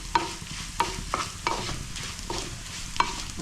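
Dried prawn shells sizzle in hot oil with a steady frying hiss, broken by sharp metallic clinks of a spoon stirring the pan at a loose rhythm, close by.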